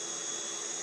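An air pump inflating an air mattress gives a steady, loud, continuous whooshing drone indoors, unbroken and with no talk over it.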